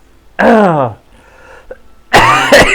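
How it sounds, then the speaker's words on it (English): A person has a coughing fit, with loud, harsh hacking coughs close to the mic, a strained vocal burst followed by quiet, then another rough cough. "And then I start having a coughing fit for some fucking reason. And I am having it now."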